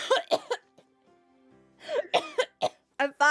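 A sick person coughs in several harsh bursts in a romance visual novel game: a pair of coughs, a pause with soft music underneath, then another close, loud run of coughing.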